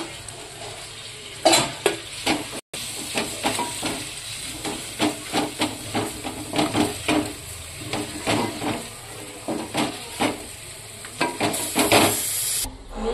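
Mutton frying in a pan for lau dal, stirred repeatedly so that rhythmic scraping strokes of a spoon against metal land every half second or so over a continuous sizzle, close and clear.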